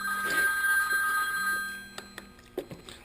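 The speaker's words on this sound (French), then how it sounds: "Téléphone, on revient." A telephone rings in a workshop during chain-case repair work, a steady electronic ringing tone that holds for over a second, then stops, followed by a few sharp knocks and clicks nearby.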